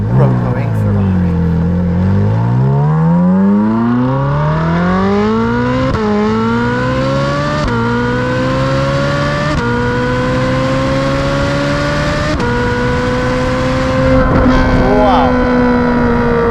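A Ferrari 458 Speciale's naturally aspirated V8 screams loud and close, climbing through the gears with sharp upshift breaks and sweeping pitch rises toward a 9,000 rpm redline, with a brief exclaimed word from inside the cabin.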